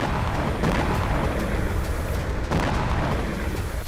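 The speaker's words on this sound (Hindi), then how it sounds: "रूस के लिपेत्स्क में भी रात भर धमाके होते रहे" Heavy, continuous rumbling of explosions through the night as drone strikes hit Lipetsk, Russia, with dense booming that swells around the middle and stays loud throughout, with no talk.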